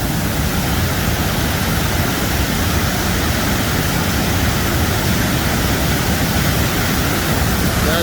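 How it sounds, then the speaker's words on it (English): Steady, dense roar of a waterfall on a Tennessee excursion, a constant loud broadband rush of falling water heard from nearby without pause or change. "we're gonna go down and see the waterfall. You can probably hear it from here"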